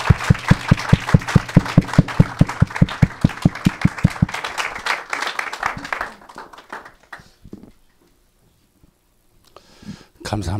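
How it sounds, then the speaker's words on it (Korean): An audience at a lecture gathering claps in a quick, steady rhythm to welcome a singer. The loud, even beat lasts about four seconds, then breaks into scattered claps and fades to near silence before a voice begins. "박수로 맞이합니다."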